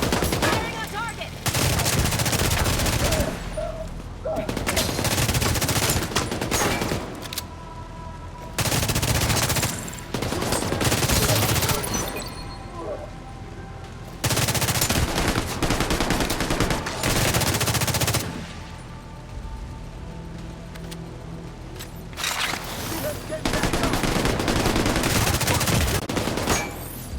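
Sustained gunfire from a firefight in The Division 2: Warlords of New York comes in loud bursts of rapid automatic shots, separated by short lulls over roughly half a minute.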